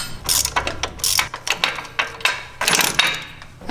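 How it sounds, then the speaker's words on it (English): A hand ratchet clicks in quick bursts, close and loud, backing out the bolts of the front bump stop extensions on a Jeep Wrangler JL's front axle, with metallic clanks between the rapid strokes. "Now that the front axle is completely drooped out, we can go ahead and unbolt those now"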